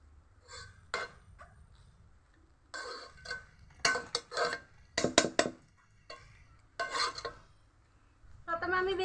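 Cooked chinigura rice for dum biryani is spread around a cooking pot with a utensil, giving scattered scraping and tapping bursts close by against quiet gaps, with no talking.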